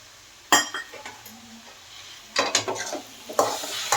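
A spoon stirs and scrapes a thick beetroot laddu mixture flavored with ground cardamom in a pan, producing three short bursts of scraping and clinking against the metal with quiet gaps between them.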